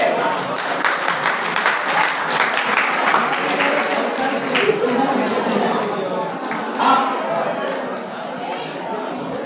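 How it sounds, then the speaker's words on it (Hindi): Sustained crowd applause mixed with chatter at a college annual sports closing and prize ceremony in Pratapgarh, steady clapping under a busy background of voices. "तालियां बजती रहनी चाहिए"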